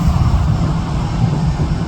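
Jet2 Airbus A330 jet airliner at Manchester Airport, heard as a loud, steady broadband engine roar filling the whole clip with no voices.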